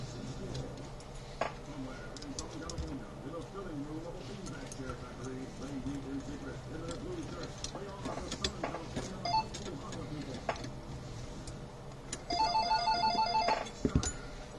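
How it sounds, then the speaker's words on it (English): A telephone rings with a quick burst of trilling bell tones near the end, after a stretch of low background noise and scattered clicks. "Phone's ringing."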